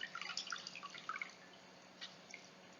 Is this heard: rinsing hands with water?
yes